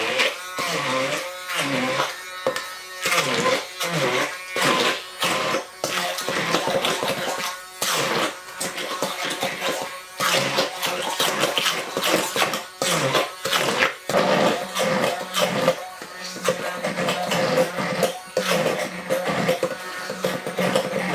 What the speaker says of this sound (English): we're going to use our hand blender to start blending